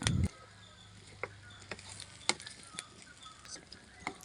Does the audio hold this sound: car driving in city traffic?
no